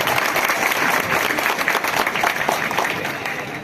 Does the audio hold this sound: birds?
no